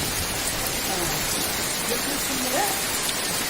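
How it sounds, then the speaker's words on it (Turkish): Steady broadband hiss of rain falling in a village garden, continuous and even throughout, with faint voices murmuring in the background. "çok güzel bir yağmur yağıyor."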